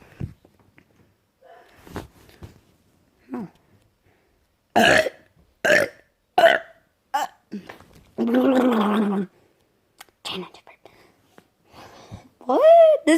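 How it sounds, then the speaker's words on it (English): A person gives several short, loud burps, broken up by pauses, with one longer rumbling belch near the middle and some brief talking around them. "This is a try to burp."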